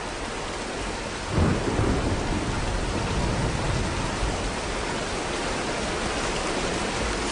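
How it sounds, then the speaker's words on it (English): In the video game Shadow of the Tomb Raider, a thunderstorm of dense, steady rain is broken by one deep thunder rumble that swells and slowly fades, loud and close, with no voices. "let's wait out the storm"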